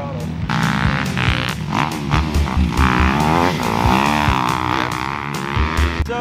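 A motocross bike engine blares in uneven bursts as the rider blips the throttle on and off, the pitch jumping and dropping in choppy pulses, loud and fairly close.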